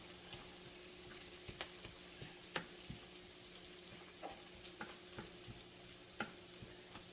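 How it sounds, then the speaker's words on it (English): Onions frying in butter in a pan, a faint continuous sizzle with occasional sharp crackles and light utensil clicks, heard close but quiet, with no voices. "So what you want is the onions to start to caramelize a little, or get a little brown."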